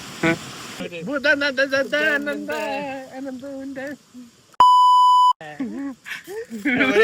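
A steady censor beep tone, about a second long, cuts in mid-stream between stretches of lively Malayalam talk, loud and clean against the surrounding voices.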